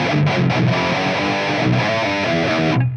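Distorted electric guitar played through a LABOGA Mr. Hector tube amp and captured on a ribbon mic, sustained crunchy chords ringing steadily and loud with no voices, cutting off at the end.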